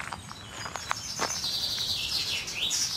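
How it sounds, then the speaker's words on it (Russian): Birds sing outdoors in Germany, with bright, rapid chirps and tweets close by, some sharp calls early on and then a continuous high warbling, with no one speaking. "Птички-то как поют у нее."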